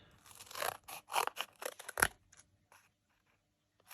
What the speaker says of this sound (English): I'm going to use the foam adhesives, and I'm going to cut down some strips